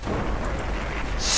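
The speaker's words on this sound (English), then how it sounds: "Here comes an airstrike!" An airstrike explosion in the video game Tiny Troopers gives a short, rumbling boom that swells louder at the end, heavy and close, with no voices.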